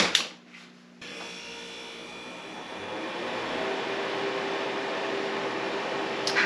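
A freeze dryer: a steady mechanical hum with a hissing, fan-like whir starts abruptly after a brief click and runs on evenly, moderately quiet.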